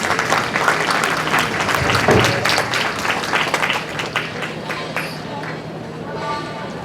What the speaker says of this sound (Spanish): Fuerte palmas para el profesor.